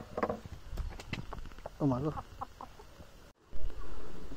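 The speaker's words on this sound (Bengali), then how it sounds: "আর মুরগিটা এই যে" Clucking from a chicken in a rural yard with goats nearby, close and fairly loud, repeated in short bursts mixed with a person talking.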